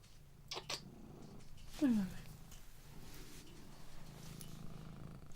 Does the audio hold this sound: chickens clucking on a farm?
no